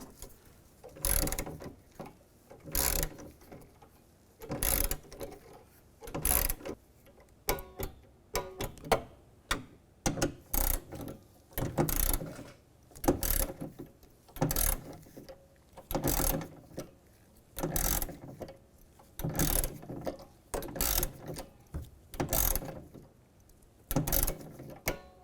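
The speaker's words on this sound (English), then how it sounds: "Get those so they're just snug, and then we'll torque them." Ratchet tightening bolts on a 2007-2013 Chevrolet Silverado rear window regulator, in repeated bursts of quick clicking separated by short pauses, close and fairly quiet.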